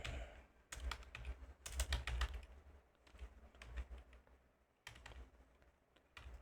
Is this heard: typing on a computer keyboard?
yes